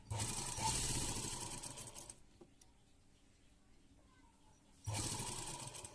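Sewing machine stitching lace onto a neckline rattles in two bursts, a longer run at the start and a shorter one at the end, with a quieter pause between them.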